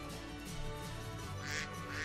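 A duck in the video game Minecraft quacks faintly at a pond, set against a dense, steady bed of game music and ambient sound with no talk.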